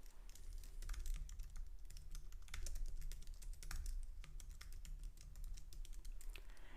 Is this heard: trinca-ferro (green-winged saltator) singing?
no